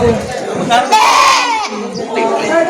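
Goats bleat in bursts over a busy crowd at a goat market in Padre Garcia, Batangas, with people talking nearby throughout.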